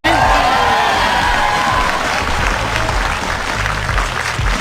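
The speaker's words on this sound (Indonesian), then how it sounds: "Tepuk tangan untuk Hesky" A school quiz-competition audience at SMAN 14 Jakarta breaks into loud applause, dense clapping with a few whoops and shouts, sustained for several seconds and tapering slightly.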